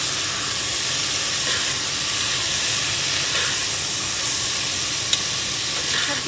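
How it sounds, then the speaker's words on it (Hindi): Potatoes and peas fry in a pan with a loud, steady, hissing sizzle and soft stirring noises close by, with no voices. "आलू, ये मटर, थोड़ा इसके साथ भूनेंगे।"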